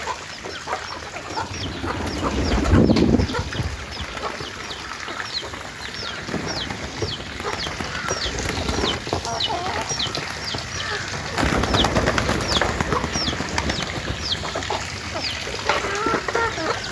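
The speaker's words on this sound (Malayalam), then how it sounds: "ഇത് നമ്മുടെ കയ്യിലുള്ള കോഴികളാണ്." Backyard chickens kept alongside pigeons at a home: continuous nearby clucking and chattering, with occasional wing flaps and shuffling throughout.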